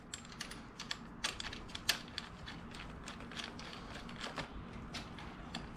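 Handlebar clamps go onto a pit bike front end with a quiet run of small, irregular mechanical clicks and light metal taps, close-up and without speech.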